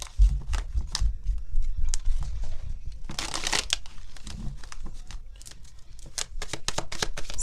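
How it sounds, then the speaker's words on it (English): Tarot cards are shuffled by hand in repeated quick riffles and papery flutters, close and crisp, with brief pauses between bursts. "2 more shuffles here."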